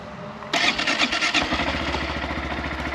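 A Honda Monkey 124cc motorcycle engine cranks and catches with a sudden burst, then settles into a steady, low, pulsing idle close by.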